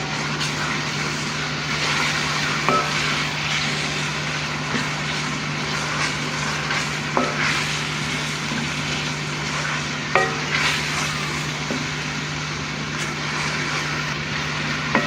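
Minced meat (keema) for aloo keema frying in a pan with onions, a steady broadband sizzle broken by occasional scrapes and clinks of a spoon stirring, with a constant low hum underneath and no voices.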